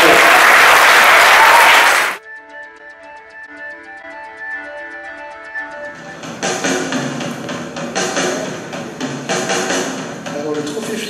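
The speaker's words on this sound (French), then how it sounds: "Mais applaudissements quand même." Loud applause from the audience at the FLIP 2015 game trophy awards ceremony fills the opening two seconds, then cuts off abruptly as tonal music takes over.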